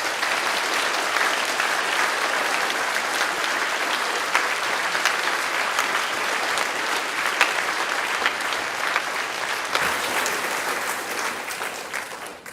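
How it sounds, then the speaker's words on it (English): An audience applauds support staff at a school Parents' Day with sustained, even clapping from a large crowd that fills the room for about twelve seconds before tapering slightly at the end. "I think they too deserve a round of applause and some thanks."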